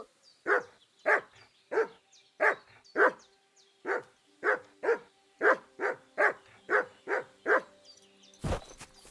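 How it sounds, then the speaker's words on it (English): A pack of dogs at a nomads camp in the medieval game Kingdom Come: Deliverance 2 barks in a rapid, steady run of about fifteen sharp, loud barks, ending in a sudden thud. "It's a lot of dogs here."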